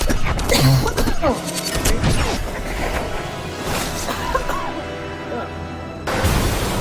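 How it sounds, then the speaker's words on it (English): A car crash from a movie action scene in The Matrix Reloaded, a woman smashing into a car: loud crunching impacts and whooshes up front, then dialogue and music, with a final hit near the end. "his girlfriend Trinity smashing into a car"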